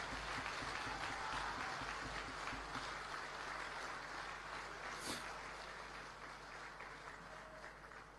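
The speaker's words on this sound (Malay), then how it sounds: "Berikan tepukan gemuruh sekali lagi kepada mereka." Sustained applause fills a large hall at a political party's general assembly, many hands clapping together in a dense, even roar that tapers off slightly toward the end.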